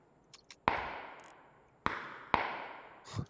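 Gunfire from a battle royale shooter where players carry 98K bolt-action rifles: three sharp, loud cracks with ringing tails, spaced about a second apart, after a few faint clicks.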